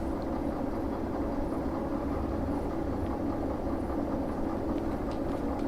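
Locomotive running in the Derail Valley train game, a continuous low rumbling engine drone with a steady mechanical hum, loud and unbroken throughout.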